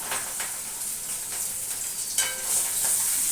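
Close, steady sizzle of fish frying in a pan, with soft crackles and a brief louder hiss, no voices present.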